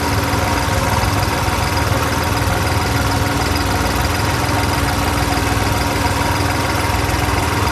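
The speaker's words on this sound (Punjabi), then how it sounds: "ਇੱਧਰ 70 80 ਟਰੈਕਟਰ ਆ" Loud, steady rumble of 70 to 80 tractor engines idling nearby, a continuous low chugging drone with no pauses, at Dera Baba Nanak.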